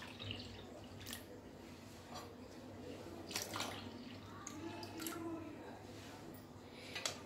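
Water splashes into a pot of moong dal, three ladles of water to one of lentils, in a home kitchen. The pouring is soft and uneven, with a few louder splashes over a steady background hum.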